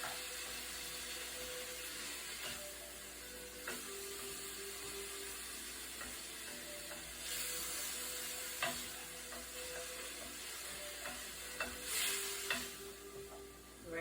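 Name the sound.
stirring soup ingredients in a pot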